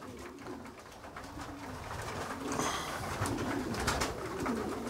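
Racing pigeons coo in a loft, soft repeated throaty calls overlapping at close range, with rustling and a faint background murmur beneath them.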